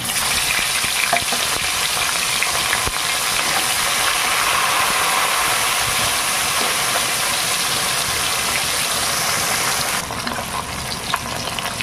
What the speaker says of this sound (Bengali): মাছগুলোকে উল্টে দেবো।